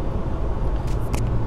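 A car driving on the N2 highway, heard from inside as a steady low road rumble and engine drone, with a couple of faint brief rattles near the end.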